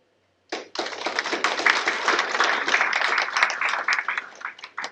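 An audience at a business conference applauds to welcome the chairman, a sudden burst of many hands clapping that holds steady for over four seconds and starts thinning at the end, with no talking.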